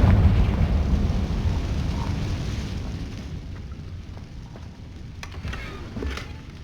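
A Confringo blasting spell explodes in Hogwarts Legacy with a loud rumbling burst that fades into a long, low roar, while faint crackles and small pops trail after it.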